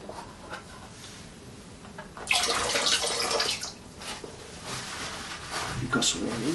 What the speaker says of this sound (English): So I'm going to pour a little bit of this away.